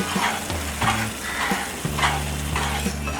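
Chocolate barfi mixture stirred in a pan over a low flame, a soft sizzle with repeated scraping strokes of a spoon against the pan at an unhurried rhythm, close and fairly quiet, with no talking.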